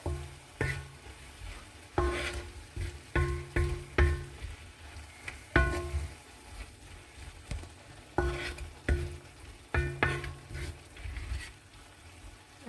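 Mushrooms and peppers stir-frying in a pan with peri-peri spice, a soft steady sizzle broken by repeated clattering tosses and scrapes of the utensil against the pan.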